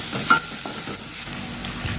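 Pounded garlic, ginger and green chili sizzle and hiss in a hot pan while being stirred, a brief loud crackle near the start, then a steady close fry alone.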